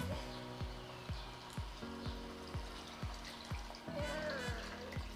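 Water poured into a pot of lugaw (sticky-rice porridge) that is already boiling on the stove. It comes as a brief trickling splash near the end, over steady rhythmic kitchen background noise.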